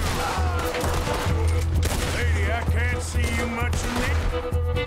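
Gatling gun in Red Dead Redemption 2 firing in a steady rapid stream of shots during a gunfight, loud and close, with whistling ricochets and other gunfire mixed in.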